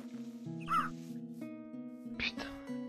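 A crow in Minecraft with the Twilight Forest mod, version 1.6.2, gives two short, sharp caws, the second brighter, over steady in-game background music.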